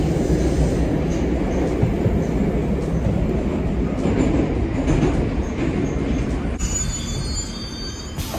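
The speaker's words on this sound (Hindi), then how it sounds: "ये रशियन मेट्रो है" A Moscow metro train rumbles loudly and steadily through the station, its wheels rattling and squealing on the rails. The noise continues without letup for the whole stretch, with no voices.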